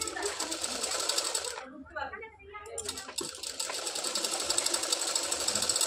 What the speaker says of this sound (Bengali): এইভাবে আমরা সেলাইটা করে নিচ্ছি।